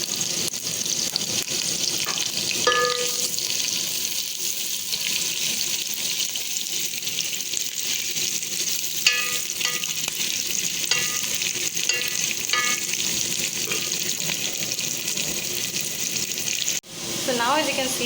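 Two large sliced onions fry in hot oil, a loud continuous crackling sizzle with intermittent stirring clatter throughout and a brief drop near the end.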